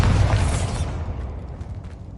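A Bombarda blasting spell goes off in the Hogwarts Legacy video game, a single loud, deep boom with a short burst that decays into a rumbling tail over about two seconds.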